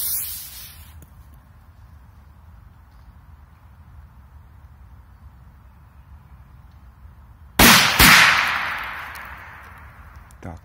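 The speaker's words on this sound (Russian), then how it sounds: "дальше взорвем петарду на два взрыва от золотого дракона" A Golden Dragon double-bang firecracker detonates outdoors with two sharp, loud blasts in quick succession, followed by a fading hiss and debris rattle after a long quiet wait.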